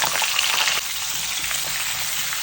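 Loud, continuous sizzling of three kinds of vegetables, including courgette and aubergine, frying with black cumin seeds in a pan, a close hiss that eases slightly partway through, with no talking.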